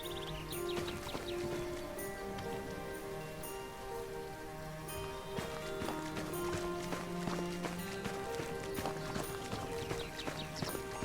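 Horse hooves clip-clopping in the Ars Notoria video game, a steady run of sharp clicking hoof strikes over a constant rain-like wash and low ambient hum, moderately loud with no speech.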